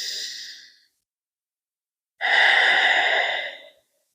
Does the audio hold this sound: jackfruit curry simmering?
no